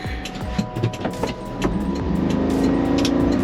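A Honda Acty mini truck pulls away, its small engine revving up from clicks and knocks into a steady rising drone, close and fairly loud.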